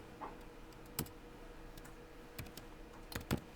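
Someone types on a computer keyboard in short, irregular bursts of clicks with pauses between, close and fairly quiet in a still room.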